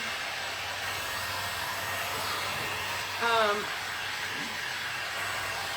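A hair dryer blowing over fresh paint on a wooden tray gives a steady, close, even hiss throughout, with a brief voice-like tone rising over it partway through.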